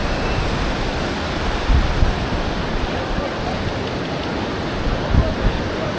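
Surf at Praia dos Ingleses beach in Florianópolis rolls and washes in a steady loud roar, with wind buffeting the microphone and a couple of heavier surges breaking through.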